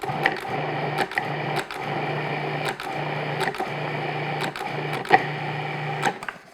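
A food processor pulses pie dough in short motor bursts, about eight quick whirring spurts in a row, each separated by a brief stop, close and fairly loud with no talking.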